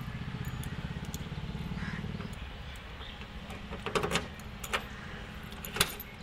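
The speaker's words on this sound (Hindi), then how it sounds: "ये हमने अपनी चाबी लगाई," A key jangles on its ring and then turns in the door lock of a Mahindra MM550 jeep, giving a few close metallic clicks and clacks after several seconds of steady rattling.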